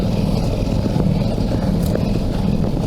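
A 2022 Ducati Multistrada V4S motorcycle riding off-road gives a steady, close engine drone with wind rumble and small bumps, continuous and fairly loud, with no talking.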